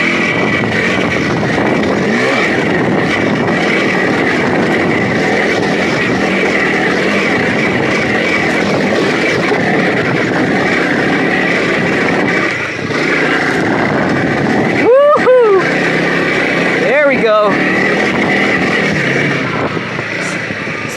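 A 2025 Honda CRF300L dual-sport motorcycle ridden off-road, its engine a loud continuous drone heard from the rider's position with wind noise, rising and falling through gear shifts.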